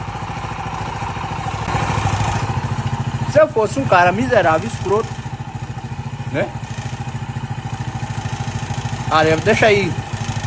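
A Honda Pop 100 motorcycle engine idles with a mechanical noise, a steady rapid chugging pulse running throughout, close and loud, while someone talks over it in a couple of bursts.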